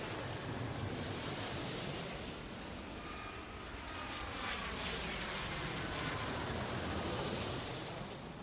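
Jet airliner engines roar continuously in an airport air-traffic-control game, a broad steady rushing drone that swells slightly toward the end as the plane comes in to land, with no voices.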